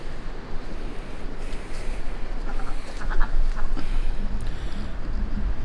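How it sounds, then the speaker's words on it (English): Four farm ducks, two Pekins and two Khaki Campbells, quack loudly and close by in repeated bursts over background farmyard noise, with no talk. "there are 4 ducks, 2 pekins and 2 khaki campbells"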